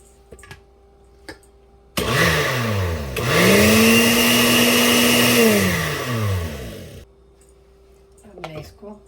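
An electric grinder jug whirs loudly for about five seconds as it blends eggs and milk for a chocolate mud cake, its motor pitch rising then settling, with quiet clicks and handling before and after.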